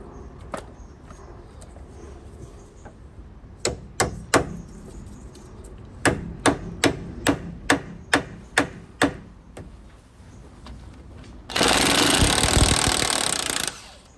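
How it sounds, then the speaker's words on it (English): Hammer blows on a steel pinch bolt at a 2008 Ford Fiesta front shock absorber: a few spaced strikes, then a quick steady run of about ten sharp metallic hits, followed by a brief burst of hissing noise. "Next step, I'm going to remove pinch bolt."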